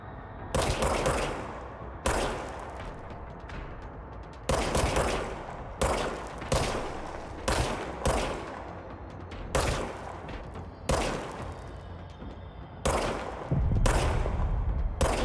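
Loud gunshots ring out from a gun in the video game Control, roughly a dozen sharp cracks spaced a second or so apart. Each one trails off in a short echo, and a final cluster of shots comes close together.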